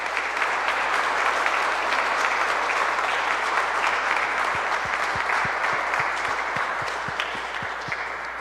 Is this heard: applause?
yes